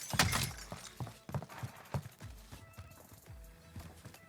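Rhythmic hoofbeats of a galloping horse in a first-person shooter, rapid repeated thuds with a whinny near the start, heard close and fairly loud over faint game background.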